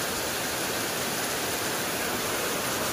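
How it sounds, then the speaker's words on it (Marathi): Heavy rain pours outdoors in a steady, dense hiss that stays loud and unbroken throughout, with no voices over it. "किती पडतोय ते बघा पाऊस आता"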